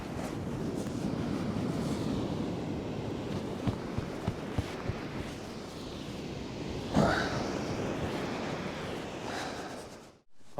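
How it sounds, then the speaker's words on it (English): Stormy surf rolls onto the shingle of Chesil Beach at Abbotsbury, a steady broad wash of waves and wind with a few small knocks and one brief louder surge, and no voices. "Those rollers are rolling in as well."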